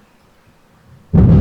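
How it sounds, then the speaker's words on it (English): A loud thunder clap bursts in suddenly after near silence, a deep rumbling crack that stays strong to the end, very close and powerful. "That was some loud lightning, or thunder."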